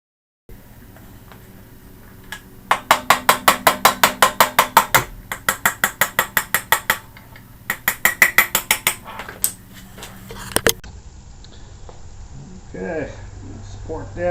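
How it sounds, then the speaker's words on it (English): A brass strip punch hammered against the front axle of an Indian Scout motorcycle, rapid bursts of sharp metallic taps in several runs, close and loud, then a few scattered knocks and a shuffle. "I'm going to just use this brass strip punch and tap the axle through."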